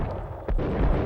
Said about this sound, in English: Gunshots? Is that those damn Valkyrie guys?